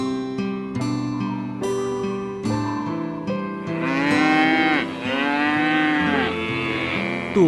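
Cattle mooing in an animated Islamic cartoon for kids, several long drawn-out moos one after another, loud and clear with no talk.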